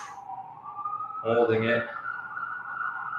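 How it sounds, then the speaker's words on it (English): An emergency vehicle siren wails through downtown Vancouver streets, a sustained rising and steady tone at moderate distance, while a person briefly talks over it. "Get the company of some sirens here in downtown Vancouver."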